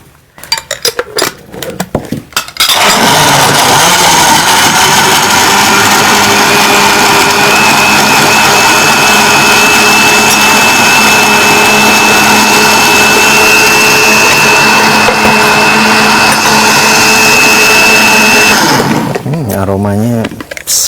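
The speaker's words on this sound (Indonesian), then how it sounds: "Sekarang kita blender." An electric kitchen blender whirs steadily at high speed for about sixteen seconds, mixing oranges with water and honey into juice, loud and close, preceded by clinks of utensils and winding down at the end.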